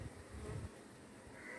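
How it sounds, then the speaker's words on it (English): Honey bees buzz around a hive frame carrying pollen, honey, brood and queen cells, a close, steady hum that lasts less than two seconds with no talk. "Bee on my hand, but not stinging me."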